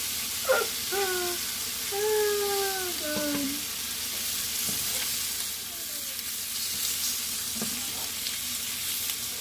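A Juicy Lucy burger patty stuffed with cheese, just flipped in a hot pan, sizzling with a steady soft crackle at close range, with a few brief tonal squeaks over the frying.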